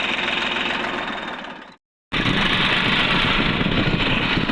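A tractor engine fitted with a turbo whistle runs loudly and close, a rough, throbbing roar with a high whistling tone, broken by a brief moment of silence before it resumes just as loud.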